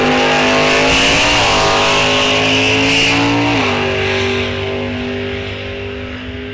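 A 1998 Camaro makes a drag racing run at Rock Falls Raceway, its engine droning loud and close with steady harmonics that shift pitch a couple of times, then easing off as the car pulls away and the sound softens toward the end.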